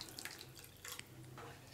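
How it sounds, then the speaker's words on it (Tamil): Half a cup of water pours into a Kerala fish curry base, a soft, faint splashing stream in short uneven bursts with no talking. "1/2 கப் தண்ணி ஆட் பண்ணிக்கோங்க கூடவே."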